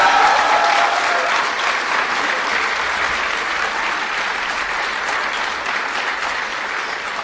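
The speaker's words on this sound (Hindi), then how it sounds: "तो एक बार फिर से तालियों से अपना प्यार जाहिर करें।" An audience at a government event claps in sustained, dense applause that fades slightly over several seconds, with no talk over it.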